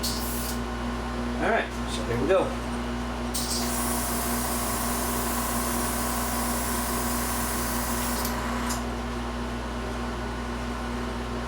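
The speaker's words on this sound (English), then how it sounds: "Alright, do a test spray." A steady broadband hiss of spray paint runs for about five seconds while test-spraying blue and gold on a model starship hull, preceded by a few short bursts, over a constant mechanical hum, with a brief spoken phrase early on.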